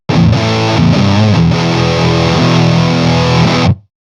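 A thick, fuzzed-out electric guitar through a Fuzz Imp Sender distortion/fuzz pedal plays loud and dense, notes bending within a buzzing wall of saturation, then cuts off sharply.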